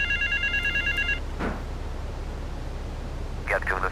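A telephone rings in Grand Theft Auto III, a short electronic trill near the start and a fainter burst near the end, set against steady low background noise.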